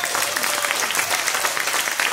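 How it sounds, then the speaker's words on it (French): A concert audience at a tribute show in Capinghem, Nord, applauds the keyboard player with a dense, steady burst of clapping. "Veuillez applaudir au clavier"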